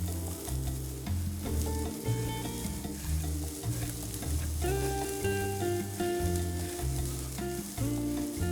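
Shallots sautéing in a pan while being stirred for Persian meatballs, a steady loud sizzle with repeated scraping stir strokes throughout, no talking.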